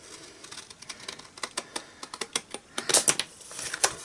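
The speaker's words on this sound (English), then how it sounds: "I'm just going to use my scissors to cut off the overhang" Scissors snip through the paper card overhang in a quick run of sharp, close clicks that grow slightly louder and denser toward the end.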